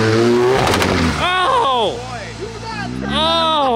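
A big-turbo Kawasaki Z1 engine revs hard with crackling, popping anti-lag bursts, its pitch rising and falling in loud sweeping surges, and a person speaks over it.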